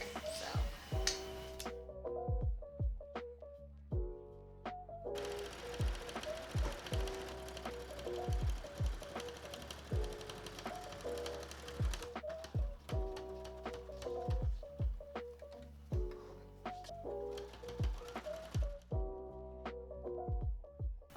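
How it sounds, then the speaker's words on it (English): Home sewing machine stitching around the perimeter of a quilt, heard as rhythmic bursts of rapid mechanical ticking that start and stop repeatedly under soft background music. "we have to sew around the entire perimeter"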